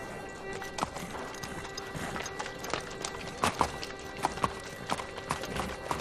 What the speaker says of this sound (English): The horse's name's Monaghan Boy